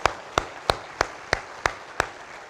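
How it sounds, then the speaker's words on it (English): A few slow, evenly spaced claps, about seven sharp hits roughly a third of a second apart, ring out in a hall during a sports hall of fame ceremony honoring student athletes; fairly close and otherwise quiet. "we'll give you a round of applause"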